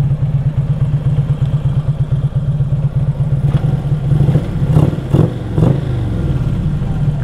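A Harley-Davidson Street Glide CVO fitted with a Screaming Eagle 110 engine idles up close with a loping, even rumble, then blips the throttle a few times into brief revs before settling back.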